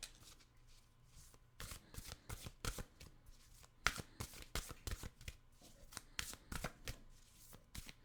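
A deck of oracle cards being shuffled by hand, with repeated crisp riffling bursts in irregular rhythm, close and fairly quiet, with no talking.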